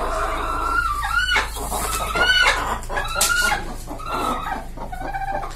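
A Sussex hen clucks repeatedly in a rhythmic run of short calls, close by, with other farm sounds faintly behind it.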